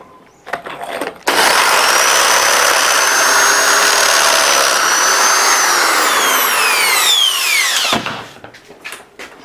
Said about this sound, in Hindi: तो हमको जो है और भी छेद करना है।